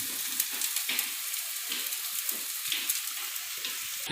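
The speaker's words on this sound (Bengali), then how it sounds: "বাকি চাউমিনগুলো কড়াইয়ের মধ্যে এইভাবে দিয়ে দেওয়া হচ্ছে সেটাকে রান্না করার জন্য" Chow mein frying and being stirred in a kadai, a continuous close sizzle broken by regular soft scraping and tossing sounds, with no talk.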